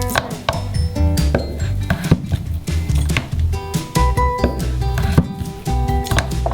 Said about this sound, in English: We open up some cheddar cheese and cut it first into strips